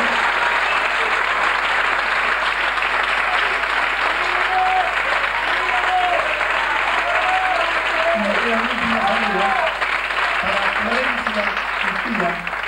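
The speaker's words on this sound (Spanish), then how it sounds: "Fuerte el aplauso" A crowd at an outdoor concert applauds in a loud, continuous wash of clapping while voices call out over it throughout.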